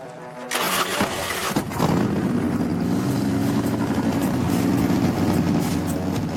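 A Harley FXR motorcycle engine cranks briefly, then fires and settles into a loud, close, steady lumpy idle.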